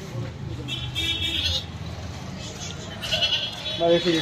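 Goats at a goat market in Bhopal bleat several times, loud and close, over a crowd of people talking and passing vehicle noise.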